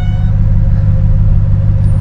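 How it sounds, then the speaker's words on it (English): A BMW 6 Series E63 650i runs with a loud, steady low engine rumble and droning tone as it pulls away, close and continuous with no talk over it. "it's going to be a matter of just quickly taking the car out for a quick little drive"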